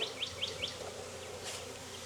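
Honey bees buzz in a swarm being hived in Jacksonville, Florida, a faint continuous hum from nearby with a few high chirps over it.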